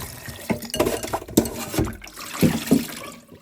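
Running water rinses freshly cut coconut pieces in a kitchen, splashing and trickling in uneven bursts with clinks of a bowl, close and fairly loud with no talking.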